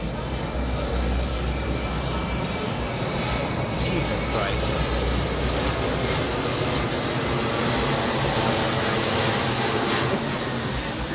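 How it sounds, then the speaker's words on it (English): An airplane passes overhead near Key West, heard from a cruise ship's deck as a broad steady roar under wind and ambient noise, with a person briefly speaking. "Got a plane coming over."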